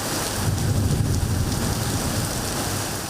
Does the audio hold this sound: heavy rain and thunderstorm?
yes